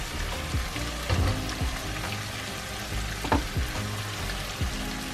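Coconut cream sizzles and crackles steadily as it meets rice grilling in a hot pan, with close stirring scrapes and bursts of frying noise and no talking.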